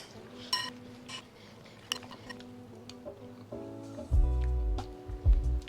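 Utensils toss a vegan cilantro pasta salad with its dressing, giving light clinks and soft scrapes that grow into heavier, louder mixing thuds toward the end over a faint tonal background.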